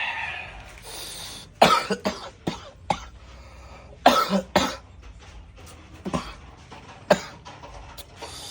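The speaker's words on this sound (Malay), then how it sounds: "terbatuk-batuk aku" A run of sharp, harsh coughs in bursts, several in quick succession then spaced apart, loud and close with no talking, from someone eating grilled mullet.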